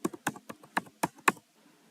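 Code is typed on a computer keyboard as a quick run of about seven distinct, close key clicks in an uneven rhythm, followed by a faint tail of quieter taps; no one speaks.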